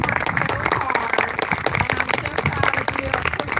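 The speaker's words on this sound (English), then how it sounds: "you guys, give yourselves a big round of applause" Students at the FPS school event applaud, with brisk, dense clapping running through the moment and voices mingling in the crowd noise.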